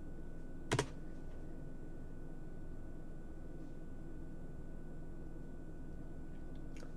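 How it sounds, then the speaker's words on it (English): One sharp, close click of a single key on a computer keyboard rises briefly over a constant low hum of room or fan noise, then the hum continues alone. "I'm just going to press enter"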